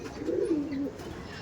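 A Kalanka pigeon gives one short, soft cooing call close by, a low throaty note lasting under a second against quiet background.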